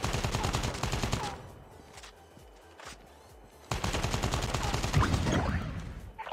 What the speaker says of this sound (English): let's shoot the rabbit